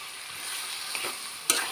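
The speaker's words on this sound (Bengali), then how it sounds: "লবণ দিয়ে এটা কিছুক্ষণ নাড়তে থাকবো যতক্ষণ পর্যন্ত কালারটা চেঞ্জ না হয়।" Crushed olives with salt frying in a pan for pickle, a steady soft sizzle with a couple of brief stirring scrapes, close and alone without talk.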